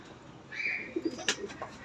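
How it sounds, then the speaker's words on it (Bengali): A Benarasi flying pigeon gives a short, close coo, with a few faint chirps and a light flutter around it. "এটা উড়ানো কবুতর"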